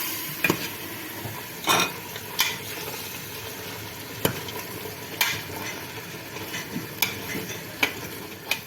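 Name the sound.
stirring chickpeas in a pot for couscous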